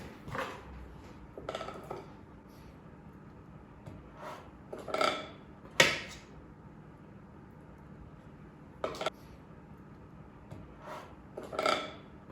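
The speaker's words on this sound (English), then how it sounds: "I'm gonna take it and I'm gonna go ahead and fill up my muffin tins" Vegan chocolate banana muffin batter is scooped into muffin tins, bringing scattered metallic clinks and scrapes of utensil against tin at irregular intervals, with quiet pauses between them.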